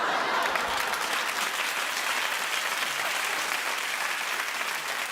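A studio audience at a daytime television talk show claps steadily and fairly loudly for the full stretch, a dense, even wash of applause with no talking over it.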